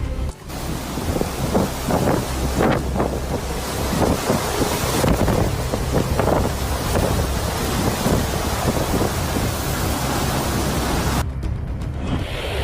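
Typhoon winds roar across Catanduanes in the Philippines as storm surge waves churn, giving a dense, unbroken rush of wind and surf with deep gusty rumbles and no voices.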